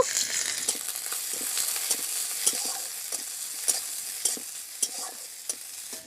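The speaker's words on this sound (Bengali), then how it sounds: "আবার কিছু পেঁয়াজ ভেজে নেব" Onions frying in a pan sizzle continuously up close, punctuated by a rhythm of repeated spatula scrapes and stirring taps, with no voices.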